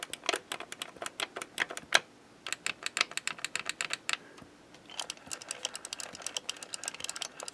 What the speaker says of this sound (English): Nice clicky joystick because it has micro switches in there.